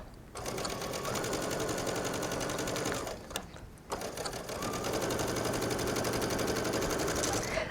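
A sewing machine runs continuously, stitching a rolled hem on silk chiffon with a fast, even mechanical chatter that stops briefly mid-way, then resumes at the same pace.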